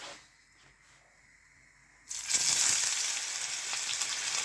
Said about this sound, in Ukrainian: Тепер вигружаємо это все на сковородочку.